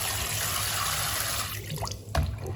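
Running water rinses croaker fish being washed of dirt and salt: a steady tap-like splashing stream that fades out partway, followed by a brief clunk and a few faint drips and handling noises, no talk.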